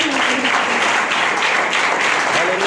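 A church congregation claps steadily and loudly, many hands at once forming a dense, continuous wash of applause that fills the whole stretch without pause.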